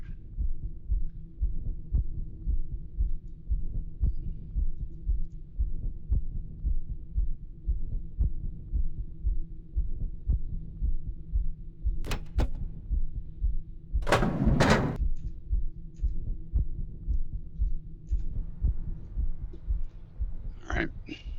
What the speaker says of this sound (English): I've got this heartbeat thing going off in my ear